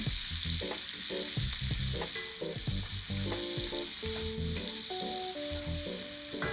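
Carrots sizzle and crackle in bacon grease in a soup pot, with a continuous loud frying sound and intermittent stirring clatter throughout and no talking.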